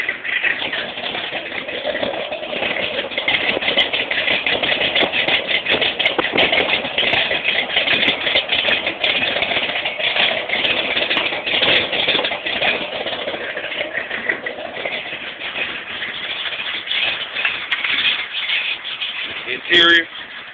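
A 1983 Ford F-100 pickup truck engine idles steadily and fairly close for about twenty seconds, a constant rumbling drone with no revving, ending in a brief clatter.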